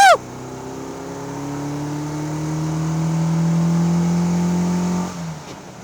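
A 1980 Austin Mini engine revs sharply at first, then pulls hard through a long rising drone that climbs steadily before dropping off near the end, heard alone and fairly close.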